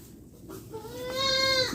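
A young goat, a buck kid of about four to five months, bleats once at a livestock market, a single rising-then-steady cry close by with faint background noise before it.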